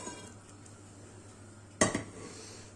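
Quiet room tone, then a sharp metallic clatter of a saucepan being lifted, two quick clanks, close by.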